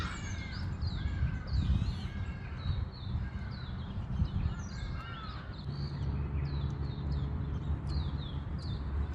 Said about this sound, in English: birds making noise in the background